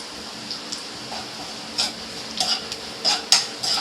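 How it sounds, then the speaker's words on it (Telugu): Bitter gourd fries in a pan with a soft sizzle while a spatula stirs, giving several sharp metallic scrapes and clinks close up, without talk. "ఇదిగోనండి ఇదైతే ఇలాగ వేపేసుకుందాము."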